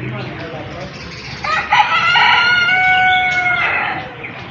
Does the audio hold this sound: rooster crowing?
yes